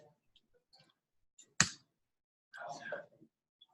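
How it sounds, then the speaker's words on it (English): Sparse computer keyboard keystrokes in a quiet room: a few faint clicks and one sharp, louder tap, followed by soft murmured speech. "So I'm typing echo that one line."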